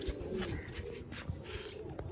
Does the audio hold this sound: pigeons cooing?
yes